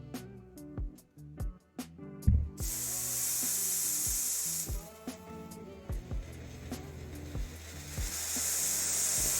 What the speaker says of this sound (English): This thing with an all coverage spray.